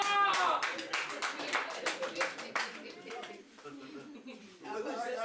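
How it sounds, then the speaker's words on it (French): An audience claps in a quick burst of sharp, overlapping hand claps that fade after a few seconds, while people talk throughout. "Applaudissez très fort."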